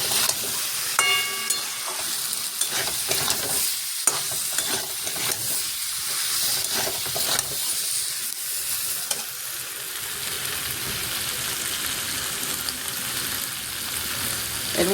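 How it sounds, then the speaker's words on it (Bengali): Potatoes sautéed and stirred in a spiced frying masala for aloo dum, a steady close sizzle with scraping stirring strokes throughout and no talking. "আলুগুলো দিয়ে কষাবো"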